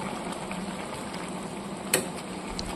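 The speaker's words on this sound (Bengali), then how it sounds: "সব সবজি ভালোভাবে সেদ্ধ হয়ে গেছে।" Vegetables simmer in a pot of Bengali fish chorchori with slit green chillies, a soft steady bubbling hiss with one brief clink partway through.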